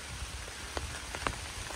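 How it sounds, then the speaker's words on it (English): Light rain falling on an Appalachian Trail hiking path in summer, a soft steady patter with a few distinct drops tapping nearby, quiet and alone. "And just like that, it started raining."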